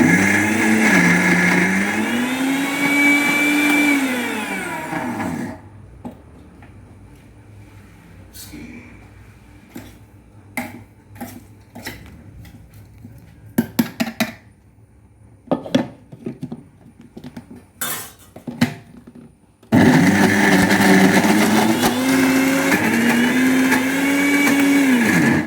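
A kitchen mixer grinder loudly whirs as it grinds rice with jaggery and five or six cardamom pods, running in two long bursts with a pitch that rises and sags, separated by a quieter stretch of clatter and knocks.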